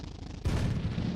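A tank cannon shot in the video game Sprocket, fired from a tankette carrying an oversized cannon, landing as one sudden, heavy boom that rumbles on briefly.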